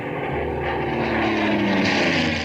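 Warplanes diving overhead, a loud continuous propeller-engine drone with a slowly shifting pitch, close and unbroken.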